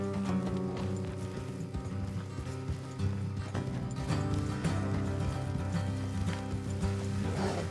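Horses trotting in Red Dead Redemption 2 with a rhythmic clip-clop of hooves under steady background sound and a brief whinny, continuing throughout.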